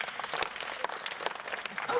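Comedy club audience clapping, a brief scattered round of applause from a modest crowd, lively but thin and over in about two seconds.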